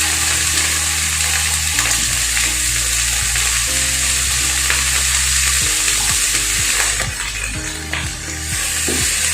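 Pork sizzles vigorously in a hot pan for pancit bihon, a loud steady frying hiss broken by the scrape and clatter of a utensil stirring the meat.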